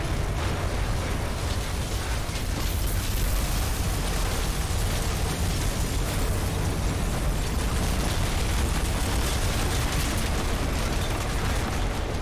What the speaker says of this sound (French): Une gigantesque explosion a été détectée par le satellite espion Hannibal 3 dans les environs du complexe d'Armacam